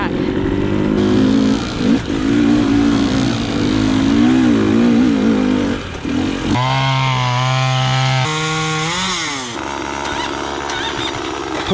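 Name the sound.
motorcycles riding on mountain singletrack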